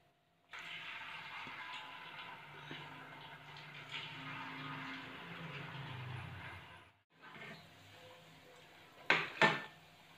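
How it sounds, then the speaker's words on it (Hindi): Cauliflower pieces being added one at a time to hot oil in a kadhai over a low gas flame, giving a steady loud sizzle with brief breaks and a couple of sharp clatters near the end. "गैस की आंच मैं सिम कर दूंगी और इसे एक एक करके मैं डालती जाऊंगी"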